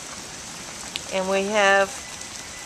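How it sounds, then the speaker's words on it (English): Marble-sized hail falls on a front porch during a freak October 2010 hailstorm in North Caldwell, New Jersey, a steady dense patter under a brief spoken phrase. "You can see the hail is just accumulating on here."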